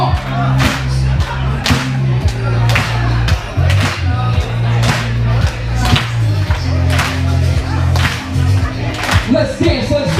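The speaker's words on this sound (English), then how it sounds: "But keep clapping." A crowd claps in a steady, rhythmic beat at a Sam's Club of the Year celebration in Cape Coral, Florida. Sharp, loud hand-claps repeat evenly over a low musical backing for about ten seconds.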